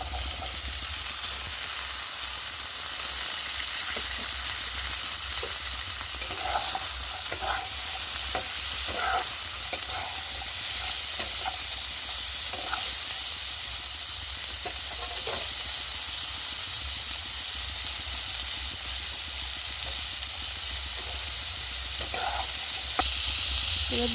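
Carrots fry in hot oil for fried rice, a steady loud sizzle and hiss running throughout, with scattered scraping clinks of a spatula stirring the pan.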